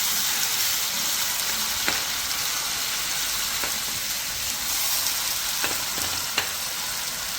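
Ground onion sizzling steadily in hot oil for mutton chukka, a dense continuous frying hiss with a few faint clicks of stirring, close and alone with no talk.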